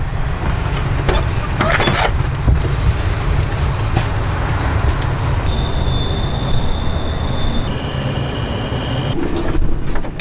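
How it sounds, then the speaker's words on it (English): A camper van on the road gives a steady low rumble of engine and tyres that runs unbroken throughout, with brief rattles and a faint high whine near the end. "I love when Sunny offers to drive."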